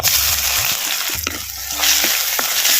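Stone-ground garlic, ginger, green chili, cumin and pepper sauté in hot oil for a betel leaf rasam, a loud close sizzle with bursts of stirring and scraping running continuously with no talk.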